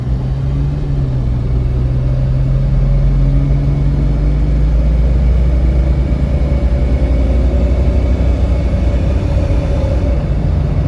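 A 2000 Jeep Cherokee XJ driving, heard as a steady loud low engine rumble and road drone from inside the vehicle, holding an even pitch with slight shifts and no talk over it.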